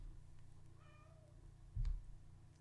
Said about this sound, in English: Don't worry about my cat.